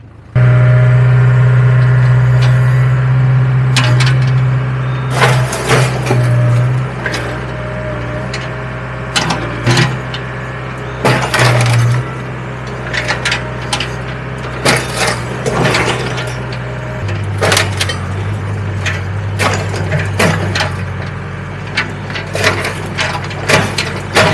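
A backhoe crushes an old gas grill out in a barn lot, with a steady engine drone underneath repeated loud metallic crunches, bangs and scraping that come in bursts over nearly half a minute.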